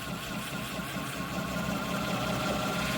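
A knife polishing machine runs at 800 to 900 RPM while a blade is worked against it, a steady, close mechanical hum and whir with a faint rhythmic vibration, no talk over it.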